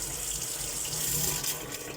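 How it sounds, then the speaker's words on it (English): Water and trapped air sputter from a tap while a boiler fills, a loud, close, continuous rushing gush with slight surging throughout. "So even that there, you can hear it, there's air coming out."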